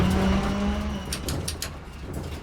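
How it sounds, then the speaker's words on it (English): A touring car's engine in the racing sim Assetto Corsa loses its low hum and dies out, the steady drone fading within about a second, followed by a few faint clicks. "Oh, I stalled it."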